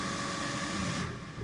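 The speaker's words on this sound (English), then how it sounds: "This is the Dragonroar unstretched" A synthesized Dragonroar creature roar sample played back at normal speed through a Time Machine time-stretch in Kontakt, a dense, continuous, loud growling rumble with a steady noisy texture that thins slightly near the end.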